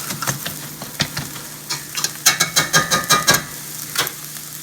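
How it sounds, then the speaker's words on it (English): Cooked beans being mashed with a potato masher, a run of firm rhythmic thumps with wet squelches, close and moderately loud, five or six quick strokes in the middle with scattered softer presses around them. "I'm going to take the great old potato masher and mash them a little bit more"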